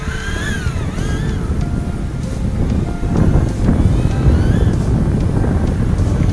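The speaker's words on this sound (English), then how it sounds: "A little bit of a wind coming now" Outdoor wind buffeting a microphone over long grass near a small brushless micro drone, a continuous low rumble that grows stronger halfway through, with faint whining tones above it.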